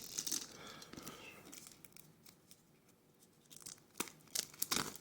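Plastic wrap crinkles and tears off a Man of Steel steelbook package, quiet and close, with a few sharper rips at the start and end.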